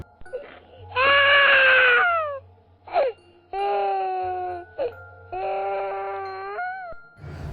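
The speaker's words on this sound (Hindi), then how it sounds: "रात को अजीब से रोने की आवाज़ आती है" Eerie wailing cries rise and bend in several long drawn-out bursts, with short gaps between them, loud and close against an otherwise quiet background.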